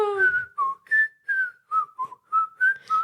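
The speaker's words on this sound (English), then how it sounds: "I can whistle both ways" A person whistles a bright, close melody of about eight separate notes with short gaps between them, a few notes bending or sliding in pitch, heard alone with no talking.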